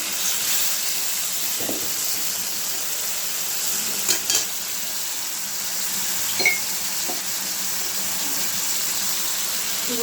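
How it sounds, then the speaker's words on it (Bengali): Spices and tomato sauté for lentils in a pan, giving a steady, continuous sizzle with faint stirring scrapes and a few brief clinks throughout. "লবণ মশলাটা কষানো হয়ে গেছে"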